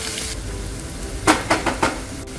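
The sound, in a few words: tomato sautéing with ginger garlic paste on a tawa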